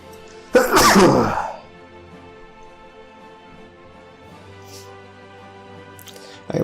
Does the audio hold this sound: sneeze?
yes